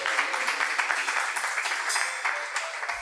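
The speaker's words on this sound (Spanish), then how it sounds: "Dale ese aplauso al Señor por esta palabra." Church congregation applauding during a service, a dense steady wash of many hands clapping together, loud and sustained until it cuts off near the end.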